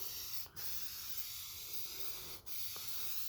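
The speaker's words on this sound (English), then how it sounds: "Go ahead and spray a coat on your new material as well." A steady hiss of spray adhesive from an aerosol can, coating headliner material for a 1988 Ford Bronco, spraying continuously with two brief pauses where the nozzle is released.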